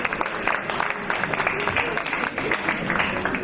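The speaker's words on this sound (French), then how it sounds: "Applaudissez pour moi s'il vous plaît" Wedding guests clap together in a steady, dense wash of applause that fills the room, with crowd noise and voices mixed in throughout.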